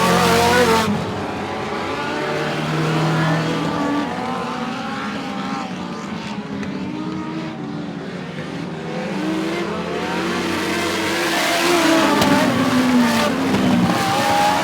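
Sprint race cars roaring around the track on the final lap, a continuous loud engine drone with rising and falling revs as the pack passes, lasting throughout with no voices.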